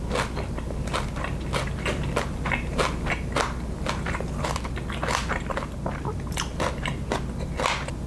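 Crunchy bites and chewing of Thai pork laab salad topped with chicharrones, close up and continuous, with sharp irregular crackles over a low muffled chewing sound and no talking.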